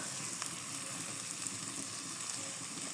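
Small fish sizzle in a pan of hot oil with salt and turmeric, a continuous close-up crackle with a few sharper pops and no talking.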